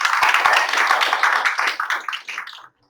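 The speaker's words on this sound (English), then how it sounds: "So big round of applause, please," Audience applause for the sponsors of an AI and medicine event, a dense burst of clapping from a modest crowd that thins out and stops abruptly.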